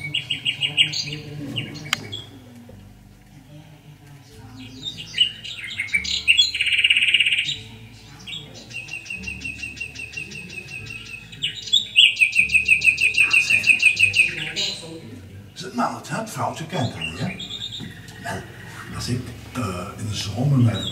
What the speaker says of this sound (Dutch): We gaan eens luisteren naar de nachtegaal.